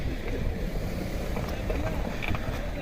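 A Maruti Brezza car drives into the Nubra river in Ladakh, giving a loud, steady rush of water and engine noise with wind across the microphone throughout.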